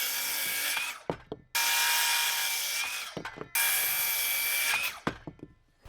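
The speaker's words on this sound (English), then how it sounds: "I like to use a speed square as a guide to make sure my cuts are consistent here with this circular saw." Circular saw cutting through wooden studs with a speed square as a guide, a loud close whine that runs for about a second and a half per pass, two long cuts separated by brief thumps and clatter of wood.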